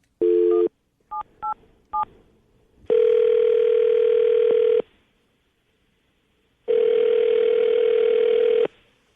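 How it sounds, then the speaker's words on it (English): A telephone call being placed: a steady dial tone, a quick run of keypad touch-tones, then two long ringback tones separated by silence, clear and close with no talk. "I'm going to call her right now, get her on the phone"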